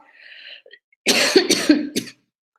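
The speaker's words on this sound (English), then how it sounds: "Sorry, I've got a bit of a cough." A person coughs several times in a quick, harsh burst, close and loud, after a moment of quiet background sound.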